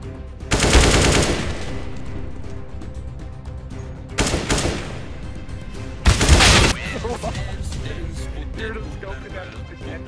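Counter-Strike: Global Offensive gunfire in a competitive match, with three loud separate bursts of automatic shots spread over several seconds against quieter game sounds and occasional talk.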